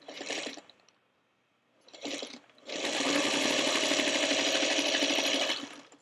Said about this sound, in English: I'm going to take this side over to my sewing machine and sew this with a 1/4 inch seam allowance